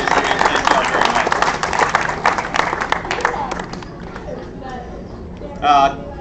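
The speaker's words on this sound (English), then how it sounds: "Give yourself another big round of applause." An audience at a golf tournament awards ceremony claps in a dense burst of applause that thins out and fades, with someone speaking over the clapping and some crowd noise.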